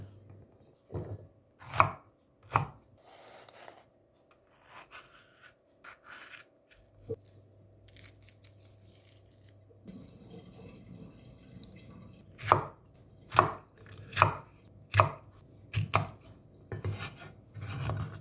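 A knife chops green chili into squares on a cutting board, with a run of sharp, close, distinct thuds that come in uneven bursts and grow denser and louder near the end.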